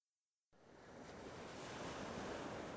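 Water and waves in the intro of the video game Eternal Legends: silence, then a steady broadband wash of surf and wind rising in at half a second and holding loud and continuous to the end.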